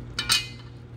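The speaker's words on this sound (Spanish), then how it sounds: "Lo revolvemos y le empezamos a echar los otros vegetales." A spoon clinks twice against a pot while chicken sancocho vegetables are stirred, two quick metallic taps close together followed by a low, steady kitchen hum.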